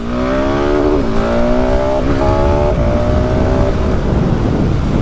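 A KTM 690 SMC R supermoto's single-cylinder engine pulls hard through the gears, loud and close, its tone climbing steadily with brief dips at each shift over about five seconds.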